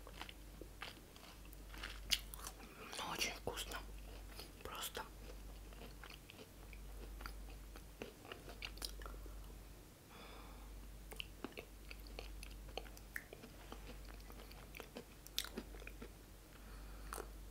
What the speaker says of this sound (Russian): Они еще так хрустят приятно.